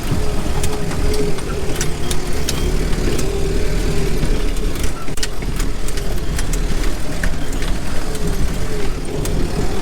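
A Land Rover grinding along a rough backcountry track in two-wheel drive, with a steady mid-pitched engine drone and constant rattling and clattering from the body and suspension, loud and continuous with no talking.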